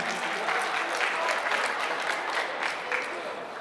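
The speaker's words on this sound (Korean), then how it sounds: "박수로 우리 맞이해서 보내드리겠습니다." A crowd at a university busking event applauds steadily for a busker in a sustained, moderately loud wash of clapping.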